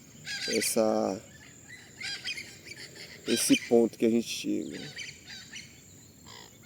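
Several birds chirp and call outdoors in scattered bursts, some close and fairly loud, while a person speaks between them.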